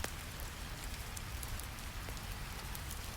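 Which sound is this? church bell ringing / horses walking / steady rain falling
steady rain falling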